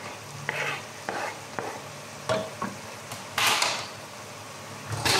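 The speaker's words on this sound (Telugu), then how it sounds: "మునక్కాయలు కూడా వేసుకున్న తర్వాత కొంచెం అవి కూడా వేగాయండి" Drumstick pieces and tomatoes fry in a pan with a steady close sizzle, broken by repeated scraping stirs and clacks of a spoon against the pan through the whole stretch.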